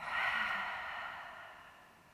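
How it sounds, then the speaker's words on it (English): A slow, steady breath is let out through the mouth during a live Pilates class. It is soft and airy, fading gradually over about two seconds, with no talking. "And exhale out slowly through the mouth."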